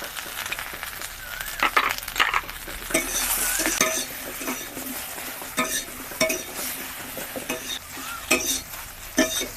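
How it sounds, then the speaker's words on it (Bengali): Okra (bhindi) fries in a pan with a low continuous sizzle while a spatula stirs and scrapes, giving repeated close strokes and clicks at an uneven pace. "ভেন্ডিগুলোকে হালকা করে ভেজে নিয়েছি"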